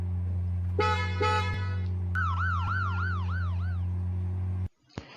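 From inside a moving car, a couple of short horn blasts sound, then a wailing emergency siren sweeps up and down over a steady low engine drone before cutting off abruptly.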